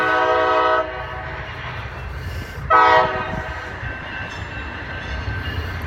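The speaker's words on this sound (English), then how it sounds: "The joy of living next to a train." A train goes by close to a home, its horn blaring in two loud blasts under steady rumbling and rail clatter.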